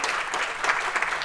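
Brief burst of audience applause at a software engineering conference talk, a dense steady patter of many hands clapping for about a second, moderately loud with no voices over it.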